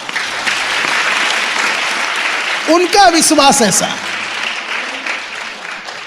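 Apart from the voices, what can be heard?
congregation applause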